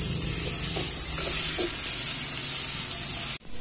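Vegetables and tomatoes sizzle steadily in a hot pan, a loud continuous frying hiss with a few faint clinks early on, cutting out abruptly near the end.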